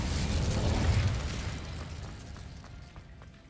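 An Incendio fire spell is cast in the Hogwarts Legacy video game: a loud, rushing fiery burst that peaks early and then fades into a crackling tail, with no talking.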